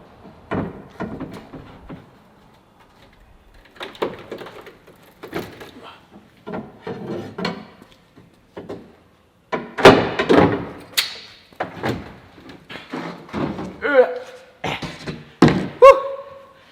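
Thin floor strips are pried up inside a Ford Transit Connect van during a camper conversion, with scattered wooden knocks, thumps and scraping creaks coming in bursts, loudest toward the end.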